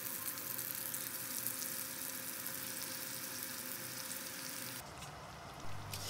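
Chicken pieces dropped into chili spice paste for ayam bakar Taliwang sizzle and fry steadily in a pan, a continuous close crackling hiss that drops off sharply near the end.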